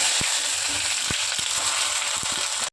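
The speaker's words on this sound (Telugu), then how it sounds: "ఇట్లా ఉప్పు వేసి వేసుకుంటే తొందరగా వేగిపోతాయండి ఉల్లిగడ్డలు" Onions fry in ghee with mustard seeds and chillies, a loud, dense, continuous sizzle close up, broken by a few sharp clicks from a spoon or seeds popping, then it stops abruptly.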